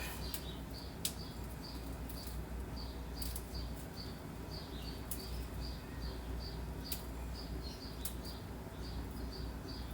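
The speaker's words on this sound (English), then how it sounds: "I have the balcony open and you can hear the birds out there" Small birds outside an open balcony chirp and tweet in short repeated bursts against a steady outdoor hiss, with occasional sharp clicks scattered throughout.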